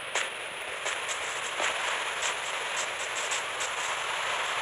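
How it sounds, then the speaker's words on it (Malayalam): Heavy rain in the Minecraft video game, a steady hiss of falling water with soft scattered drop ticks, no voices. "നല്ല മഴ"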